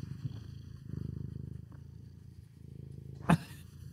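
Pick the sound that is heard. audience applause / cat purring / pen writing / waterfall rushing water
cat purring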